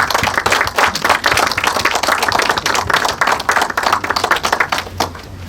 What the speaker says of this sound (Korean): 두 분 큰 박수로 앞으로 좀 맞이해 주셨으면 좋겠습니다.